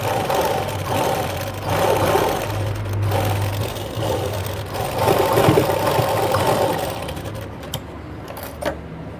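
A sewing machine runs steadily and fairly loud while top-stitching a blouse on a scrap of waste cloth, its motor hum lasting through the clip with slight rises and dips and a brief stop near the end.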